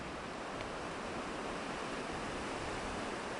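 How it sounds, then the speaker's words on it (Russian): A broad, steady rushing noise of strong wind tearing through trees by a river during winter fishing in a storm, continuous and fairly faint, with no voices. "слышите, как шумят деревья?"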